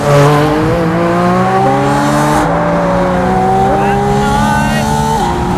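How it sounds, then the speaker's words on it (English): A Porsche Spyder RS engine revs hard and climbs through the gears, its pitch rising and dropping at each shift, loud and continuous with wind noise. "just shifting about, hearing that lovely engine."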